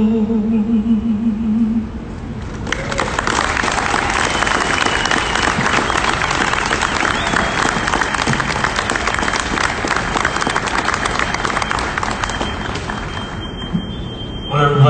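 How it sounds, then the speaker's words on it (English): A large outdoor crowd applauds heroes at the Father Mychal Judge 9/11 Walk of Remembrance in New York City, 2020. The clapping swells after a brief lull and holds loud and dense for about twelve seconds. "give a round of applause to the heroes that are here today"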